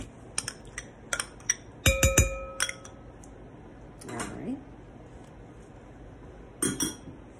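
Mashed banana tipped into a glass mixing bowl, giving a few sharp clinks and knocks of glass and utensil, with a cluster of louder bright hits midway and another pair near the end, close and clear against a quiet kitchen.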